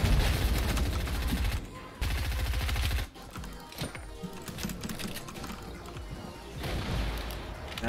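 Gunfire in the video game Fortnite, Battle Royale on PC: loud rapid bursts of automatic shots crackle in dense volleys, break off briefly, then resume with sharp single reports and clatter.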